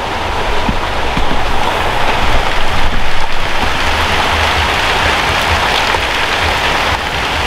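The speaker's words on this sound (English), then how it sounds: "We've got pouring rain." Heavy pouring rain on an allotment hisses continuously, dense and close, with a steady wash of drops hitting surfaces and no voices.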